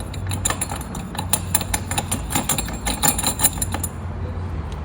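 A wrench tightens a metal sink siphon fitting during a kitchen sink installation, giving a close series of quick metallic clicks and rattles for about four seconds before it goes quiet.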